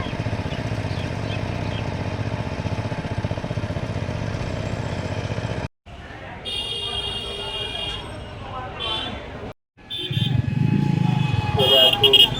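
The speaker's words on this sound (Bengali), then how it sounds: "একসঙ্গে দুটো পাওয়ার টিলার পাশাপাশি হাল করছে" Two power tillers plough a field side by side, giving a steady, loud rumbling engine drone for several seconds before it cuts out, followed by quieter mixed sounds and another burst of engine noise.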